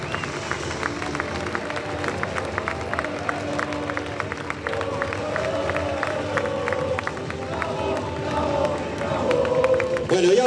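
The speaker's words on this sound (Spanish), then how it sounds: "Fuerte aplauso para él, claro que sí." A crowd applauding and cheering in an outdoor arena during a town street festival, loud continuous clapping with scattered shouts that swells toward the end.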